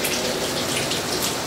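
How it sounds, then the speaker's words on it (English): Water from a Panda portable washing machine's drainage hose pours steadily into a bathtub, a continuous close splashing gush throughout. "And it drains from the drainage hose, goes right into my tub."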